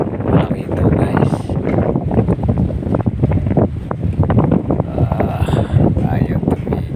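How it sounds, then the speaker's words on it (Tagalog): Strong wind buffets the microphone outdoors on a hunting trip, with loud, gusty rumbling in uneven bursts under faint voices. "Lumakas ang hangin."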